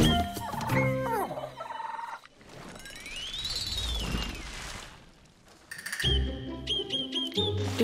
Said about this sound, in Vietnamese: Vậy là gà mẹ nghe thấy tiếng gà con.